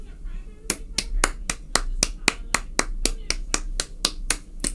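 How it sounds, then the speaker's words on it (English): A single person claps softly and evenly, about a dozen crisp, close claps at a steady pace, starting after a brief quiet moment over a low hum. "Soft clap, soft clap"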